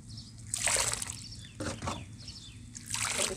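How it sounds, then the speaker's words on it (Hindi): Water poured out of a container outdoors in the early morning, emptied as part of cleaning and mixing red dirt: bursts of splashing and sloshing with trickles in between, close and fairly loud, no talk. "सारा पानी इसके अंदर जो था निकाला वो डाल दिया।"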